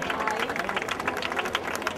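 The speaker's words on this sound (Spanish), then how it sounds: "Fuerte aplauso para ella, chicas." Applause at an awards ceremony for the winners of a night-time fun run, a steady wash of clapping hands with crowd noise mixed in, continuous and fairly even for the whole stretch.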